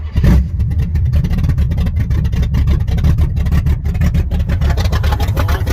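A car engine with a stock cam revs hard and close, rough and throaty with a choppy, loping pulse as the throttle is held open.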